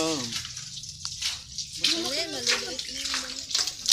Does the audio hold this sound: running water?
yes